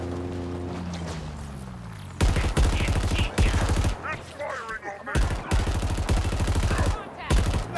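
Halo Infinite gunfire in a running firefight: loud bursts of automatic fire come in several blocks separated by brief pauses, with a shouting voice and other game sounds in between, close and dense.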